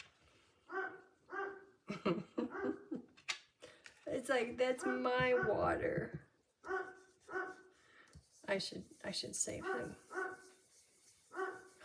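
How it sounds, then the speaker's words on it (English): A dog wanting its water barks repeatedly in short close bursts, with a stretch of whining yelps in between, while a person talks over and between the barks. "He's barking because he wants a drink of his water"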